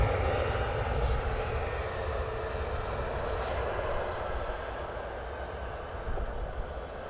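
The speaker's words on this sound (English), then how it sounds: "Touchdown from EasyJet." An EasyJet airliner lands at Luton Airport in the early morning, a steady broad roar of jet engines filling the scene at a distance, continuous and unbroken.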